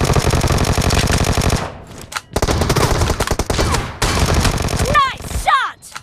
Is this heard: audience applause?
no